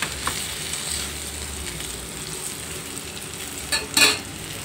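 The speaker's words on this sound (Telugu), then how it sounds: "ఈ వేయించుకున్నాం కదండి మినపప్పు నువ్వులు" Urad dal and sesame seeds fry in a pan for a raw banana curry, giving a steady soft sizzle with a couple of brief louder stirring scrapes near the end.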